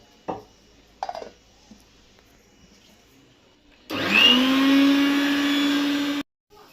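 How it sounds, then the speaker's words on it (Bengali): A mixer grinder runs steadily for about two seconds while grinding ginger in a home kitchen, loud and close with a rising whine, after a couple of brief clatters. "আমি এই আদাটাকে বেটে নিয়ে আসি"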